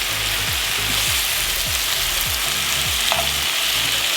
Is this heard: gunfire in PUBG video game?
no